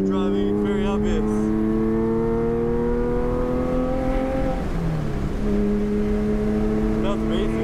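A Porsche GT3 race car engine roars loudly and continuously at Circuit of the Americas, its pitch climbing through the gears, dipping sharply on a downshift and rising again under heavy throttle.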